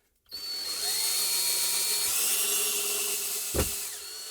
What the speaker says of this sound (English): Now we'll bring our drill in here and see if we can drive it home.